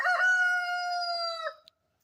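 A backyard coop rooster lets out a single loud, clear cock-a-doodle-doo crow lasting over a second, close by, followed by silence.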